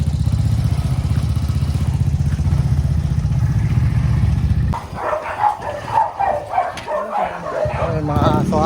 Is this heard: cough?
no